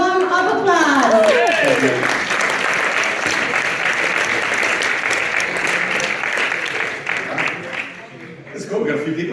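A sustained round of audience applause, loud and dense, fading slightly near the end as a voice begins speaking.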